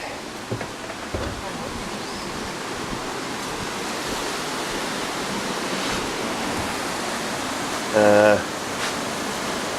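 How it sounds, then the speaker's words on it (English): Steady broadband rush of a waterfall outside a ruined cabin in Swatara State Park, continuous and fairly loud, with a brief louder knock near the end. "We'll go outside and take a look at the waterfall."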